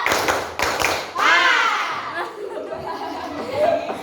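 Students in a vocational high school classroom clap together on command, a quick burst of a few claps at the start, followed by laughter and chatter.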